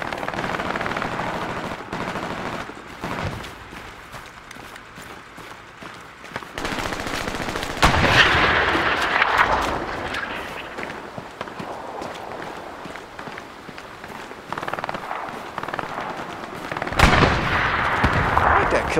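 Rapid machine-gun bursts and heavy artillery blasts from a war video game battle near a church, dense and continuous, surging louder in waves with scattered footsteps and occasional talk underneath.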